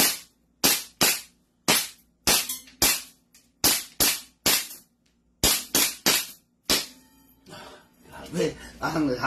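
A pistol fires about fifteen sharp, loud shots in quick, uneven bursts at close range, and voices talk briefly afterward.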